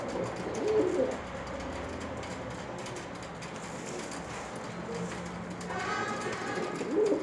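Pigeon cooing in a loft, low soft coos near the start and end over a steady background rumble.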